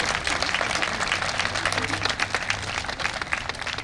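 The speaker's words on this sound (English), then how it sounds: "Please give the city of Fresno a round of applause" A crowd gathered outdoors for a flag raising ceremony in Fresno claps for the city, dense continuous applause with scattered sharp hand claps, fairly loud and steady for the whole stretch.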